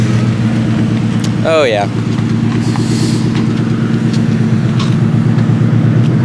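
A pickup truck engine rumbles at a steady idle, loud and close, with a brief voice and a quick whistle-like sweep near the start riding over the continuous drone.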